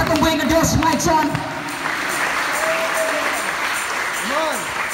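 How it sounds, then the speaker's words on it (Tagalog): Congregation applause at a church fellowship service, sustained clapping from a crowd heard alongside music with a voice that sings or calls out over it, loud and close throughout. "Palakpak sa atong buhay na Diyos"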